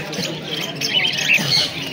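Cockatiels squawk in shrill, repeated bursts among caged birds at the busy Naihati bird market, with steady crowd noise behind them.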